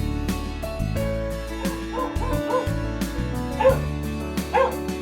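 Saint Bernard dog barking and yipping in a string of short, close barks with whimpering tones between, fairly loud against a steady low background hum.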